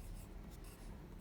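Pen or pencil writing on paper during a children's word activity, a faint continuous soft scratching for about a second, close and alone, with no voices.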